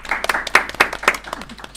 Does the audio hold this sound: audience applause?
yes